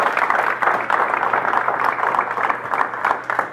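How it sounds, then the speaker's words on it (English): Steady applause from a seated audience at a gardening and preparedness talk, dense even clapping filling the room for several seconds without a break and staying close and fairly loud, with faint voices mixed in. "Let's give Jeff a round of applause."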